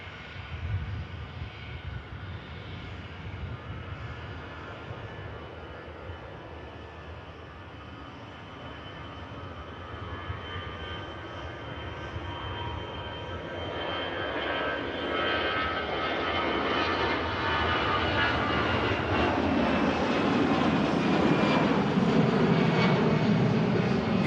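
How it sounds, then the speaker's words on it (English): An EasyJet airliner takes off and climbs out at Manchester Airport, its jet roar starting as a distant rumble and swelling steadily louder and fuller over about twenty seconds. "Here goes the EasyJet for Paris."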